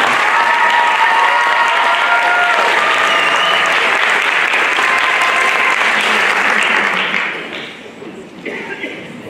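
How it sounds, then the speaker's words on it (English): An audience at a spring choir concert applauds the graduating choir seniors, a loud sustained round of clapping with some voices and cheers mixed in, fading down near the end as a voice begins. "But one more round of applause for our graduating seniors."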